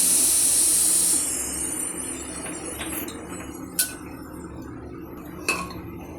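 Pressure cooker on a stove releasing a loud, steady hiss of steam while mango chutney cooks, the hiss cutting off after about a second and leaving a quieter kitchen background with a few faint clinks of utensils.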